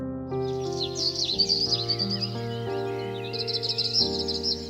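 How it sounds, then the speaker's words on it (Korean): Birdsong in countryside woods near a valley stream, a run of bright chirps and warbling calls that sounds close and clear, with a steady tonal drone underneath and no voices. "도심에서 벗어나 푸른 나무들과 계곡 물소리, 새소리 등을 들을 수 있어"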